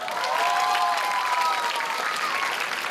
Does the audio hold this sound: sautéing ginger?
no